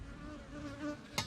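Honey bees buzzing at a hive in Jamaica, a close, steady tonal drone with a sharp brief spike near the end, no voices.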